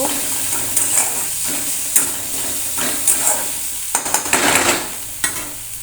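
Grated garlic, grated ginger and chopped green chili are stirred in a hot pan for a potato chop filling: a sizzling bed with repeated scraping stir strokes and a cluster of quick clatters near the end.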